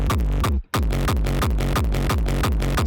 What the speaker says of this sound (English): so that's how I made the kick for this track